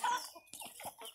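A few quick clucks from a chicken close by, short choppy calls in a brief burst with no talking.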